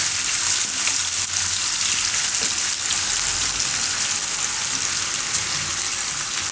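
Onions frying and being stirred in a pan for pulao, a steady bright sizzle that continues without pause, with faint low scraping from the stirring underneath.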